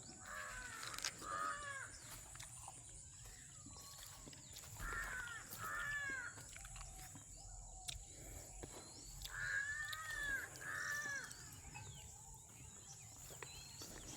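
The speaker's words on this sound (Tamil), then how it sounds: "அப்படியே பாருங்க காகம் வெள்ளனைக்கே வந்துட்டுது." Crows caw in a village garden in repeated bursts of harsh calls, with a steady insect hum and distant bird chatter underneath.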